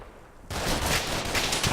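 Gunfire in the video game Combat Mission: Black Sea, starting after a quiet half-second as a loud, dense burst of overlapping shots and rattling fire that continues without a break.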